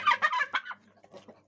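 A heavy red American turkey, among the largest of its breed, lets out a loud burst of rapid gobbling up close, then trails off into a few softer, scattered notes.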